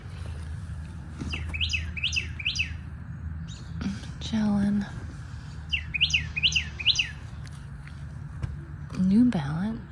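Small bird chirping outdoors on a morning at a yard sale, clear repeated rising tweets in short bursts, fairly close, over steady background noise, with someone talking briefly in between.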